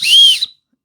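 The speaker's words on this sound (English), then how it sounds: "I did not point out this whistle." Emergency whistle from a LeadNear 35-in-1 survival kit blown once, a single shrill, close blast lasting about half a second, then silence.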